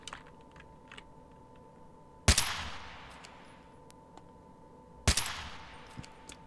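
Two sharp, loud gunshots a few seconds apart, each with a decaying echoing tail, over quiet ambient noise and faint clicks in the guerrilla warfare game Freeman: Guerrilla Warfare.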